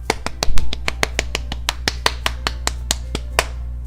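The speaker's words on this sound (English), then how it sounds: "The four of us applaud." A short applause sound effect from the video game Doki Doki Literature Club: a sparse series of crisp individual claps in an even rhythm, close and clear over a low steady music bed.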